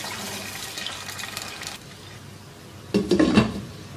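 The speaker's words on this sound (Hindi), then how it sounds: "3 कप पानी के शामिल कर देंगे।" Three cups of water poured into a pot of bone-in meat for Afghani Kabuli pulao, a soft splashing fill with a louder burst of pouring and clinking near the end.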